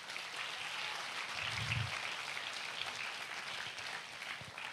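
Faint applause from a church congregation continues steadily at a distance as a dense, even wash of clapping.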